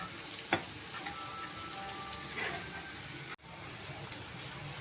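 Egg gravy sizzling in a pan as it is stirred after water is added, a steady close frying hiss with occasional scraping and clinks of a spoon, one sharp knock near the end.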